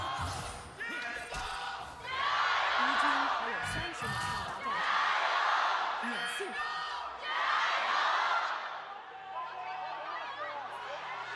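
Esports crowd at an LPL Spring Playoffs match between Weibo Gaming and JD Gaming, cheering and chanting in rolling waves of roaring noise that swell and fade several times, with a commentator's voice underneath.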